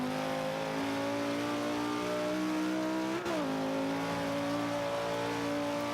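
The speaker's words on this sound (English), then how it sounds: "Gotta listen for the tires." A 2005 Honda NSX-R engine in Forza 5 holds a steady, loud drone with a brief shift blip midway, then settles back to sustained revving.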